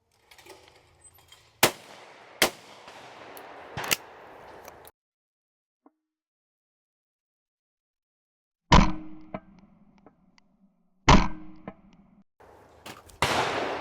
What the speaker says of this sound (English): You gotta shoot on these probably about a foot below the target.